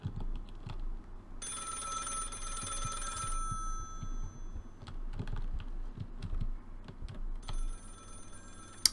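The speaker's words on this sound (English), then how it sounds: "I hear a phone ringing." A telephone rings in bursts inside a haunted indie video game restaurant on a lakefront, its bright electronic trill standing out over steady soft tapping and clicking.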